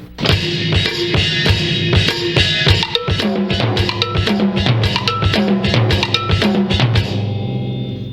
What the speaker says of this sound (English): We'll have the jam block and the ridge rider. We'll have the 10-inch timbale and the 13 snare